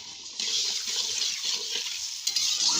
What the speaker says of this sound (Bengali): আমি গরম জলটা দিয়ে দিব পরিমাণ মতন